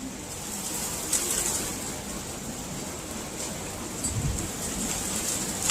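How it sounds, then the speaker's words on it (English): Steady, continuous rain falling outdoors, a dense hiss with occasional louder gusts and spatters, no voices. "Still raining."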